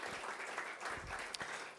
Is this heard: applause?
yes